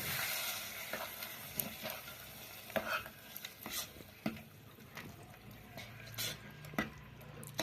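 Peanuts roasting in ghee in a pan while tiruvadhirai kali is made, with a light sizzle under irregular scrapes and clicks from the stirring spoon, close and fairly quiet with no speech.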